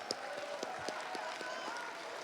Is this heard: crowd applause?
yes